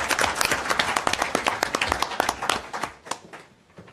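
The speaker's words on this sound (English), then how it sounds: "let's give them a round of applause" A round of applause from a council meeting audience for youth participants, dense clapping that fills most of the clip, then thins out and fades near the end.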